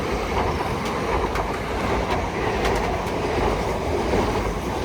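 A Class 701 electric train pulls away at Clapham Junction, a steady broadband rumble of wheels and traction noise filling the scene with faint rhythmic rail clicks, continuous and close, with no voices.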